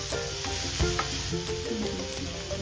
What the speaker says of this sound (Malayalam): ചെറിയ അഞ്ച് ഉള്ളി ചതച്ചത് അതും ഇട്ടൊന്ന് വഴറ്റി കൊടുക്കാം